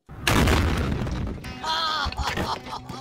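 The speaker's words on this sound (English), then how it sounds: "gonna blow this car up for realsies and check out how that sounds" A car blown up with 2.2 pounds of C4 gives a heavy, booming blast heard from a distance, with a rumbling tail and debris settling afterward.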